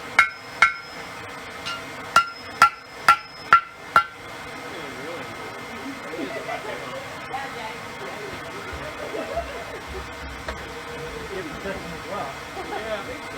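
A ball peen hammer strikes seven times in a quick, bright, clinking run at a barbecue blacksmith forge, then stops. A person talks quietly over a low background hum afterward.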